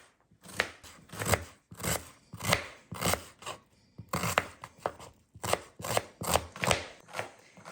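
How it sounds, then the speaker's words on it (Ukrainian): A knife chops onion on a cutting board in quick, steady strokes, about two per second, close up with short pauses between bursts. "Цибульку ріжемо четверть кільцями."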